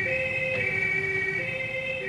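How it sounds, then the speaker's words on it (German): An ambulance siren wails steadily in a dramatic feature film, heard faintly and at a distance as a sustained two-tone wail with no voices over it. "Ein Krankenwagen!"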